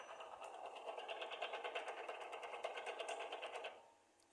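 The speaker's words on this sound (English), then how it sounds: "motor to make the bottle stand here upright" A labeling machine's motor runs steadily with a dense mechanical whir and rapid rhythmic ticking, close and fairly loud, for about four seconds before cutting off.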